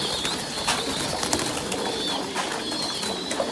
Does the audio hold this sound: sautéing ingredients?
no